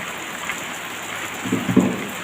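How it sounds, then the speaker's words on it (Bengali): Steady intermittent rain hisses nearby with a constant wash of noise, a few heavier drops or low thumps standing out briefly. "আবার বৃষ্টি হচ্ছে থেকে থেকে বৃষ্টি হচ্ছে"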